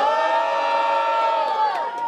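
A crowd at a rap battle in Londrina, Brazil, cheering and shouting for the fighter Portuga, a loud sustained roar of many voices with some whoops rising toward the end.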